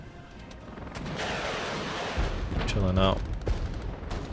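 Artillery barrage during a battle in the strategy game Regiments, a low rumbling wash of distant blasts and booms with a heavier swell near the end, while a voice speaks briefly over it.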